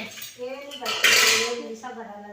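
Dishes being washed, with close clattering of cutlery and steel pots clinking and scraping together in short bursts.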